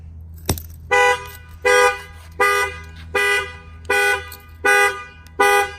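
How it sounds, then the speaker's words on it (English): A 2019 Ford F-250 pickup's alarm sounds through its horn in loud, evenly spaced honks, seven blasts about every three-quarters of a second, preceded by a sharp click, close by with no talking. "The alarm's gonna fire off."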